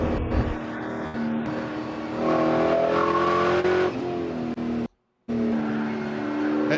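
Spec Corvette race car engines whine and rev loudly as they pass close by at Chuckwalla Valley Raceway, the pitch rising and falling with a brief dropout near the end.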